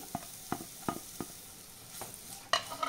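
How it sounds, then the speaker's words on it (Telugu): Onions frying in hot oil in a pan, with soft sizzling and a series of sharp scraping stirs at irregular intervals, ending in a louder clatter. "Oil heat ఎక్కిందండి. ఇప్పుడు ఫస్ట్ ఆనియన్స్ వేయించేసుకొని"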